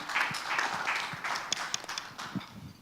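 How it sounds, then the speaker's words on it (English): Press-conference audience at the Standard Chartered Mumbai Marathon applauding a new partner, Jet Airways, with moderately loud, scattered handclaps in an indoor room. "Really a big round of applause for our new partner."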